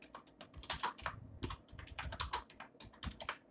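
Rapid typing on a laptop computer keyboard, a close, steady patter of individual key clicks in irregular bursts with brief pauses, heard alone.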